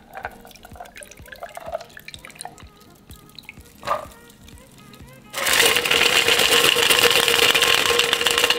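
La French tonic water is poured into a cocktail glass: scattered drips and light clinks first, then a loud, steady, fizzing pour that runs to the end.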